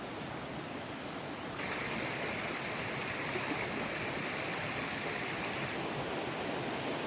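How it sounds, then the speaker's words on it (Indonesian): A clear, shallow jungle river in the mountains of South Kalimantan, flowing with a steady close rushing babble that swells slightly louder after the first second and a half. "Air ini sungainya jernih dan tidak dalam."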